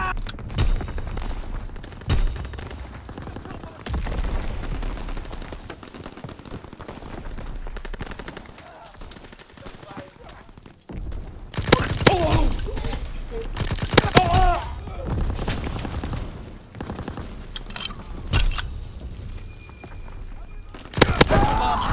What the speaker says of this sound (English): Explosives ready. Fire in the hole.